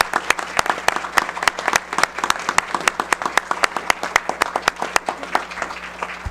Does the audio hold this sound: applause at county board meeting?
yes